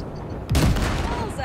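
Gunfire blasts drifting wrecks around the Basilisk, a cargo ship, in Cyberpunk 2077: a loud burst of shots after a brief lull, with a rolling rumble and scattered crackle continuing underneath.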